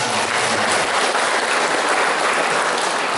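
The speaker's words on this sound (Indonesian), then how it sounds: "Yang tepuk tangannya masih belum semangat" Applause from an audience of teacher candidates at a ceremony, a thick continuous patter of many hands clapping, loud and uniform for the whole stretch.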